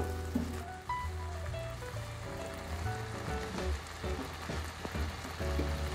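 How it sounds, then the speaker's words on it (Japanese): Low-calorie braised Japanese pork belly simmering over medium heat, a steady soft bubbling and gentle sizzling throughout, close and fairly quiet, with no talking. "仕上げに中火に変えてグツグツ煮込みます"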